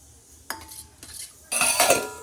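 Salt being stirred into flour in a metal bowl for naan dough, with scraping, clinking utensil strokes in short bursts, the last and loudest lasting about a second.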